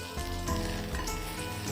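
Hot oil crackles and sizzles steadily as tempering spices fry for South Indian carrot poriyal, close up, a dense busy texture with no one speaking.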